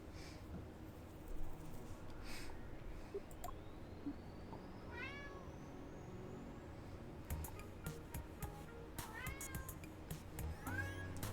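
A cat meows several times at moderate distance, short rising cries spaced irregularly over a steady low background hum, with no talk.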